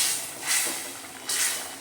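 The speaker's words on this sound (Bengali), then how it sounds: "ঝোলটা খুব ভালো মতো ফুটে উঠেছে।" Tomato curry broth bubbling hard in a pan for a Bengali tilapia dish, a steady close hiss with two brief surges of louder spitting.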